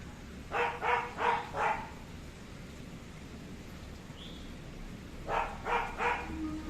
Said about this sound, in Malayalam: ചോട്ടു കുരയ്ക്കണ കേൾക്കാം.